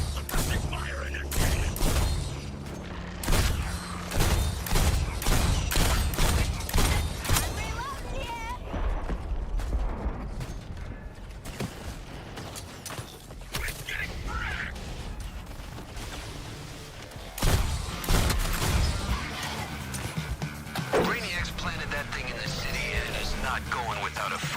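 Gunfire from the Suicide Squad video game rattles in rapid bursts of shots and thuds, loud and close, mixed with in-game voices and talk throughout.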